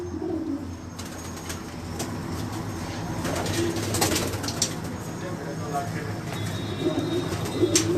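Migratory pigeons on a rooftop in Jalalpur Bhattian, Hafizabad district, coo and chirp steadily, with wingbeats and flutters over a low continuous hum throughout.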